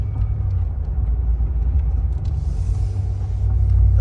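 Ram 1500 pickup with a 5.7L Hemi V8 climbing a mountain road in North Georgia, heard as a steady low engine and road rumble throughout, close and continuous with no talking.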